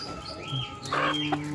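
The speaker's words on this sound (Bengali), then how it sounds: "সুন্দর মুরগি" Chickens kept in a cage give a few short, close clucks over a quiet background, with no talking.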